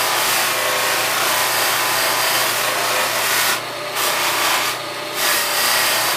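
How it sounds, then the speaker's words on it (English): Carnauba wax buffing wheel spinning against a wooden tobacco pipe, a loud, steady whirring rush with two brief shifts in tone as the wood is pressed to the wheel. "I kind of like to load the Canuba up pretty good when I do the wood."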